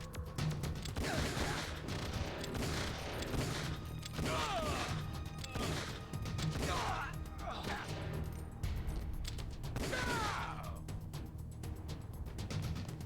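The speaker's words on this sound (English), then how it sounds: "Okay, now I gotta shoot him. A lot of trank darts." Tranquilizer darts fire repeatedly in Metal Gear Solid: The Twin Snakes, a string of muffled shots and impacts over steady game noise, with voices talking throughout.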